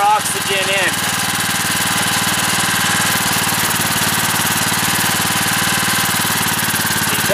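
Small generator engine running on gas from a wood stove, a steady loud droning idle with mechanical knocking and vibration throughout, close up.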